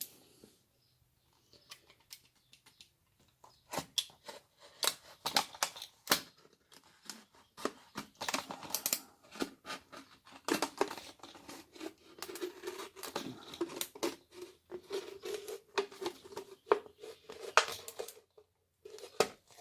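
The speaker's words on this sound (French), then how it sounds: "On la découpe, hein, simplement, au cutter" A plastic bottle being cut around with a utility knife gives a close series of sharp crackles, scratchy clicks and snips that come in irregular bursts and grow busier after the first few seconds. No one speaks.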